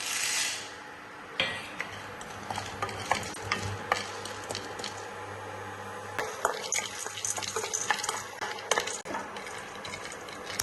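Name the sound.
homemade coffee beans dry-roasted and stirred in pan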